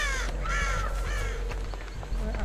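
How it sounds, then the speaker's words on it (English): Several crows caw in the Dead by Daylight game, with a handful of harsh, scratchy calls in quick succession over a low, steady background hum. "Look at all these fucking crows."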